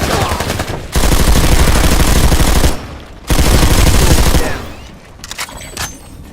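Rapid automatic gunfire crackles in PlanetSide 2, two loud sustained bursts of fast shots separated by a short gap, followed by scattered quieter distant shots.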